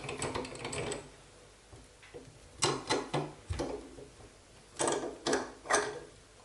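A vise is tightened to clamp a slingshot pouch with Theraband Gold elastic, making a series of sharp metallic clicks and ratcheting turns in short bursts with brief pauses, close and fairly quiet.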